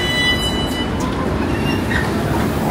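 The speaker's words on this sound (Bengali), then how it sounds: "ট্রেন চলে আসছে।" A metro train pulls into a Bangkok rail station bound for Phaya Thai. It makes a loud, steady rumble with wheel and track noise that fills the whole stretch, and no voices are heard.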